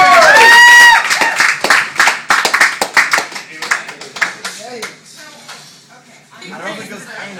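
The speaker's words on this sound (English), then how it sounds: "Another huge round of applause, Nathan Smith, everybody." A comedy club audience breaks into a round of applause for a comedian, dense clapping that swells and then thins out, with a host's voice talking over the start.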